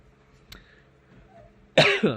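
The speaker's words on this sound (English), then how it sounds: "I got a little bit of a cough." A quiet room, then near the end two quick, harsh coughs close to the microphone, the second one shorter.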